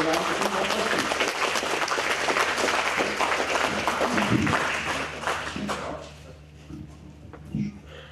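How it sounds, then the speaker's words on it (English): An audience at a lightning talks session applauds after a talk. The clapping is thick and sustained for about five seconds, then thins out and fades as a voice speaks. "good round of applause"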